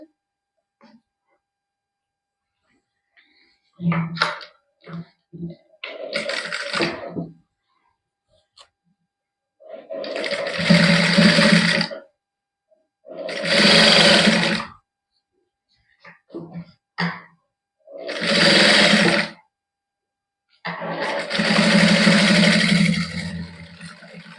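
Sewing machine stitching a warm-fabric T-shirt in a home boutique, running in several loud bursts of a few seconds each with short pauses between them, near and clear, with no talk over it.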